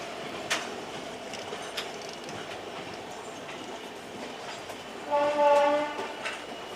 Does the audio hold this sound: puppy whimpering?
no